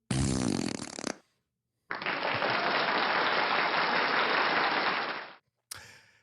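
A short, blaring raspy burst, then a steady roar of clapping applause that runs for several seconds and stops abruptly, followed by a brief noisy snippet.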